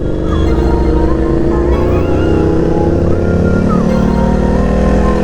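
A KTM motorcycle engine roars loudly and steadily as it is ridden around a go-kart circuit, with a dense, continuous drone and small shifts in pitch, close to the rider throughout.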